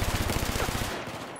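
Rapid automatic gunfire from Battlefield 4, a dense burst of loud repeated shots that runs for about a second and then cuts off abruptly.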